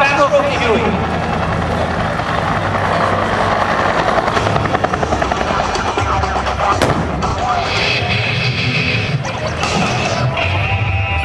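A Huey helicopter flies at a military airshow, its steady rotor thump and turbine whine loud and close throughout, with a public-address announcer talking over it and a sharp bang partway through.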